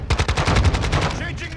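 Rapid automatic gunfire in Call of Duty: Modern Warfare II from multiple shooters, a loud close burst of evenly spaced shots that carries on briefly before tapering off.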